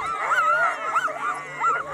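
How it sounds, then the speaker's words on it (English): Sled dogs at a Colorado dog sledding event whine, yip and bark excitedly in a continuous, close, wavering chorus. "When everybody's getting their dogs out, they're all gonna start barking and hacking and carrying on"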